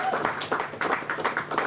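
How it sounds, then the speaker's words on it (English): A small outdoor crowd at a National Night Out neighborhood gathering in Mattapan claps for a community member, a sparse, fairly close patter of distinct hand claps in an uneven rhythm. "So I want to give Rick a round of applause just for doing that."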